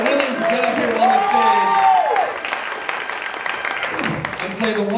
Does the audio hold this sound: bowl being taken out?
no